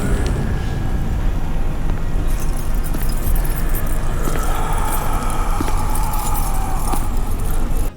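Keys jangle and clink as a set is pulled out, a steady close metallic rattle over a noisy background with a hint of a running car.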